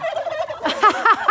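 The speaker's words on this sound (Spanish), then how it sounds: "En eso volteé así, tres guajolotes." Three wild turkeys gobble nearby in a countryside sanctuary, with repeated throaty rattling bursts that grow louder toward the end, the calls clear and without any talk.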